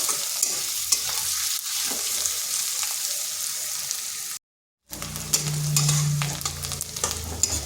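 Thinly sliced long onion strips sizzle steadily in a pan while a utensil stirs them, scraping and clinking now and then, with a brief gap of silence partway through and no talking.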